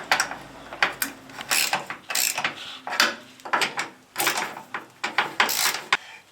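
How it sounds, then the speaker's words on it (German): Ratchet wrench work bolting the steering gear of a Porsche 911 G-model to the cross member, a series of close, loud clicking ratchet strokes in irregular bursts with metallic clanks, no voices. "Dann können wir das Lenkgetriebe von unten wieder an den Querlenker anschrauben."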